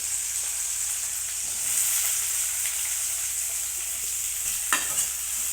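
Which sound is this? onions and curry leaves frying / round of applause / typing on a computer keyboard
onions and curry leaves frying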